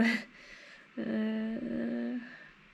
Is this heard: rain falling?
no